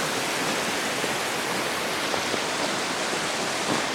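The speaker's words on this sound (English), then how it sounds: "Look at the water gushing off that hill today, this morning." Water gushes off a hillside in the morning, a steady, broad rushing roar with no breaks and no voices.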